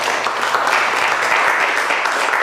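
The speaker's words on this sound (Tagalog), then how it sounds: "Bakit kayo pumapalakpak?" A classroom audience breaks into sustained applause, a dense, loud wash of many hands clapping together without pause.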